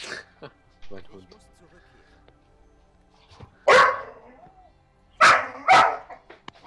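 Short, sharp barks from a dog companion in the game Diablo 3: a few scattered yips come first, then a loud bark, and after a pause a close pair of barks.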